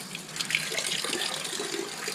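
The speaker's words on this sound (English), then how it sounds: "tractor is being drained down" Water runs and splashes steadily, draining out of a Fordson Major tractor and gushing onto the ground nearby.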